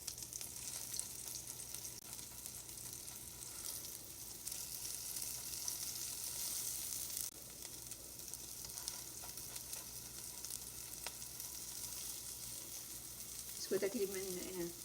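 Hara bhara kababs sizzle steadily in a pan over a medium-to-low flame, a continuous, fairly quiet frying hiss that runs the whole time, with a brief voice breaking in near the end.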